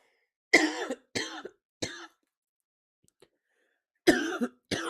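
Several harsh coughs in quick bursts, a pause, then two more close coughs, loud and near.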